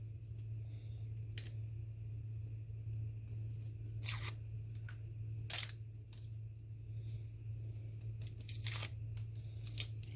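Garlic cloves are peeled by hand from the bottom, with faint, dry crackling tears of papery skin coming in scattered short bursts over a low, steady background hum.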